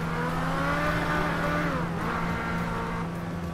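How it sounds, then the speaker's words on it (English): A McLaren supercar in GTA 5 roars with a loud, steady engine drone, pitch rising and then dipping briefly midway as it shifts, continuous and close with no talk. "That Mclaren was so loud"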